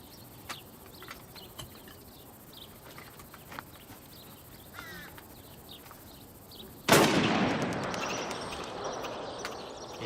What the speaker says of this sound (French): Prends le fusil, tire un coup dans le bois.